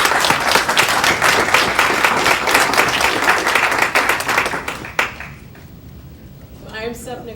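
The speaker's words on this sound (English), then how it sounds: "Let's give her a big round of applause." A law school lecture audience gives a big round of applause to welcome a guest speaker; loud, dense clapping runs for about five seconds, then stops abruptly, leaving room tone and a speaker beginning to talk.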